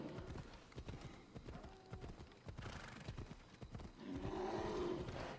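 Horse hooves clip-clop in a steady galloping rhythm in the Assassin's Creed Odyssey video game, moderately close and continuous, with a brief whinny-like sound near the end.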